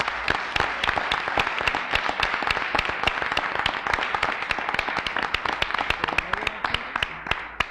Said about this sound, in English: Let's give them all a big round of applause again.